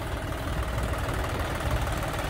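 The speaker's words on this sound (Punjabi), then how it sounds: "ਤੇ ਆ ਗਈ ਸਾਡਾ ਆਪਣਾ ਦੂਜਾ ਟਰੈਕਟਰ 4x4" A 4x4 tractor, a 744 model whose brakes have failed, idles nearby with a continuous low, rumbling engine drone at an even level and no speech.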